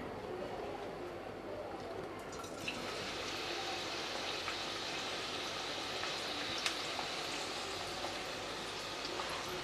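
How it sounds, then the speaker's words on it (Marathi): Chopped onion sizzles as it drops into hot oil in a pan while cooking Koli-style dry tendli, a steady crackling hiss that brightens after the first couple of seconds and runs on without talk. "आता यामध्ये ना कांदा घालूया पहिल्यांदा।"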